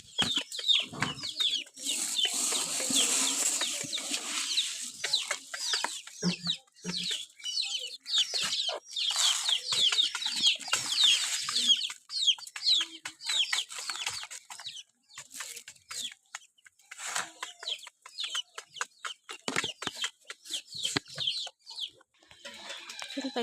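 Quail birds cluck and chatter busily while being fed, a dense, continuous flock of sharp, high bird calls close by with no talk.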